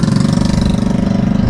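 A 100cc Kawasaki Bajaj CT 100 motorcycle engine, 2023 model fitted for a tricycle, idling loud and close with a fast, even thumping putter, no talk.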